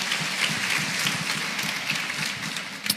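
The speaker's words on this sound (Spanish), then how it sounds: "Démosle un fuerte aplauso al Señor." Church congregation applauding together during a Baptist worship service, a dense, steady wash of clapping hands held at even loudness throughout, with no voices rising above it.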